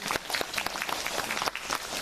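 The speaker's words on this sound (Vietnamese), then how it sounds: "Chịu vỗ tay đi." Audience applause at a Vietnamese Buddhist retreat ceremony in Conroe, Texas: a steady wash of many hands clapping together, moderately distant and even in level, with no talk over it.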